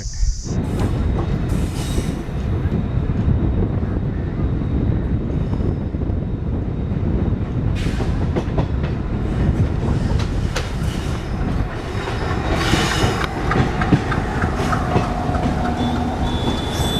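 An Alco diesel locomotive in Kingfisher livery hauls the Tatanagar Express on Indian Railways, a loud, steady engine rumble with rolling wheel clatter and occasional squeals and clanks, close by and sustained without speech.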